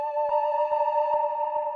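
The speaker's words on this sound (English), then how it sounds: "I made a automation clip on the reverb so that the first part has no reverb, but then when it hits that last note is when you get that reverb." A sustained synth melody note with automated reverb and delay in a dark trap beat rings steadily while soft percussive hits pulse at a regular rhythm beneath it.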